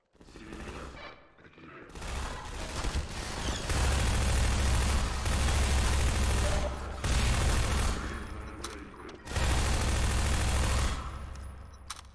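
Gunfire in the Half-Life 2 game, loud sustained volleys of rapid shots with heavy low booms, broken by short pauses, close and dense.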